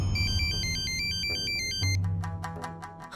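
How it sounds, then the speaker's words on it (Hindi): An electronic phone ringtone plays a bright, repeating melodic pattern, fairly loud and steady, with a low hum beneath it. "अरे ये फोन भी बकत पे बकत बजना लगता है।"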